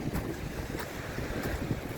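Wind gusting across the microphone on a beach during a December walk with high tide, a steady low rumbling buffet with soft surf underneath, fairly quiet and continuous.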